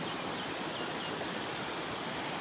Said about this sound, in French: petite rivière que j'ai toujours connue, moi.